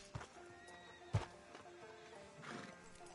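A horse in Red Dead Redemption 2 whinnies sharply near the start, then its hooves clip-clop in a slow walk on a town street outside a sheriff's office, with another neigh rising toward the end.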